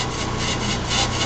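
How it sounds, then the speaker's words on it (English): On a BL500 brake lathe, the cutting bit eases in and scratches the surface of a brake rotor, producing a brief, close, steady grinding rasp that lasts just over a second. "You want to ease the cutting bit in until you hear it start scratching the surface."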